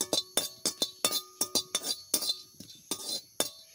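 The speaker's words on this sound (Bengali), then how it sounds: "গরম মশলা দিয়ে দিচ্ছি, একটু নাড়াই নি" Metal spoon stirring garam masala spices in a cooking pot, giving a quick run of sharp, bright clinks against the pan, about a dozen close, loud strikes in an uneven rhythm with no talk.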